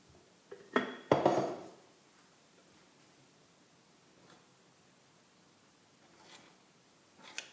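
A spoon scraping and clattering against a mixing bowl while whole wheat bread dough is stirred, a few loud knocks early on, then quiet with faint scattered taps.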